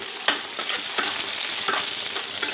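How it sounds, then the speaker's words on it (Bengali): Cubed potato chunks fry hard in hot oil for a Bengali-style mutton curry, giving a steady close sizzle broken by a few scraping stirs, with no voices. "আলু ডুমো ডুমো করে কাটা হয়েছে এবং সেটা কড়া করে একটু ভেজে নিচ্ছি"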